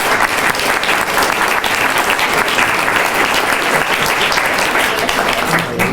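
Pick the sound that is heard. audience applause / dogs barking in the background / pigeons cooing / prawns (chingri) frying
audience applause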